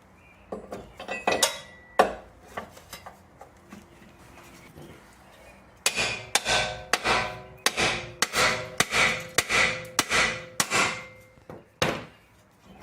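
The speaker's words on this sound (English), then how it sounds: "Now we can separate the control arm from the ball joint using a pickle fork." A hammer strikes a pickle fork to split a car's lower control arm from the ball joint on a Subaru Outback. A few scattered metallic blows come first, then a quick run of about ten loud, close whacks.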